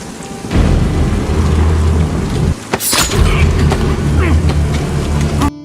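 Steady rain pours throughout with a loud thunder crack near the middle, set during a rainy attack mission by a naval special forces team; low rumbling tones sit beneath the downpour, with no speech.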